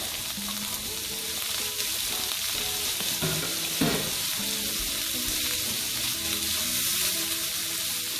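Shrimp for chow mein fries in a hot pan with a steady, even sizzle that stays fairly soft, and a few clinks of a utensil stirring partway through.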